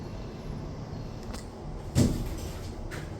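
Lift doors slide with a soft whoosh and a dull thump as they close at the Rocklea railway station lift serving platforms 2 and 3 and the footbridge, under a steady mechanical hum.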